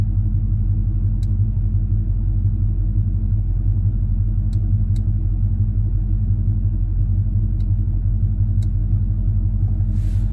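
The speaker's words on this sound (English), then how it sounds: "I'm going to let the car do it with wide open throttle" 1970 El Camino with a turbo 400 transmission, its V8 rumbling steadily and loudly at close range under wide open throttle, a constant deep drone with a few faint clicks.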